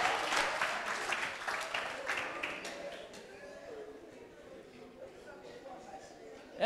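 An audience applauding and cheering in acclaim of God, a dense burst of clapping that fades over several seconds while someone speaks over it.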